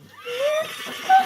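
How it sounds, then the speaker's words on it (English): A white horse approaching as a tabletop game sound effect, with a drawn-out whinny rising and a second short neigh near the end over a soft, steady background; hooves are not distinct. "You kind of hear the very rhythmic clopping of hooves as you see a white horse approaching you all"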